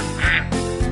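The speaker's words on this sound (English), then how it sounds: "We'll be right back after Bob gets the ducks out of his living room" Cartoonish duck quacks used as a sound effect, a few loud nasal honks in quick succession with low thumps, up close and with no talking.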